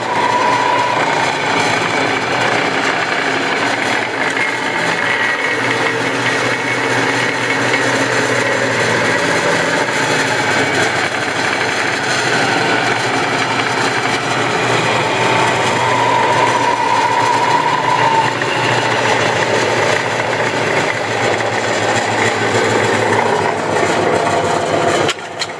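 A Clausing 20-inch bench drill press runs steadily with the speed control engaged, giving a continuous loud mechanical drone with a whining tone that holds level throughout, alone with no talking.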